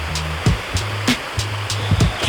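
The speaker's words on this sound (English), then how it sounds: "it is a cute little set of mini rapids" A small creek rushes over a little set of mini rapids on a forest hike, a steady close water noise broken by periodic splashy surges.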